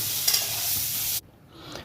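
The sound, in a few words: potatoes frying with turmeric in oil in a wok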